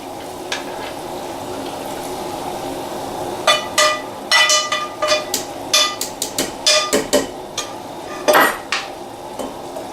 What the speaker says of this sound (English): I'm going to pass it through a sieve to lose all the oil.